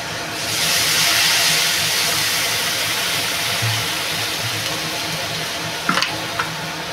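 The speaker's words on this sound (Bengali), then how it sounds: "আমি এবার জল দিয়ে দেবো।" Water poured into a hot pan of fried potatoes bursts into a loud steaming hiss that settles into a steady bubbling simmer, with a couple of utensil knocks near the end.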